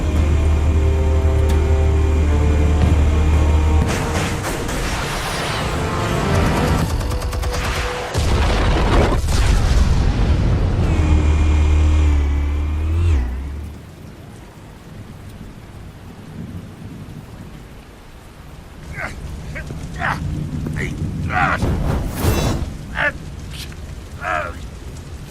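Explosions in a Batman video game: deep, loud rumbling booms roll continuously for about fourteen seconds, then fade to a quieter ambience with scattered sharp impacts and game sounds.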